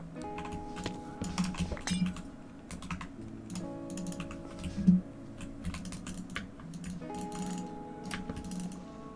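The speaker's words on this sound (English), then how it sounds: "The rest of this video is gonna be some ranked Skywars mouse and keyboard sounds" Keyboard and mouse clicks from ranked Skywars play, with rapid jitter clicking: dense, fast, close tapping and clicking that runs continuously over faint background music.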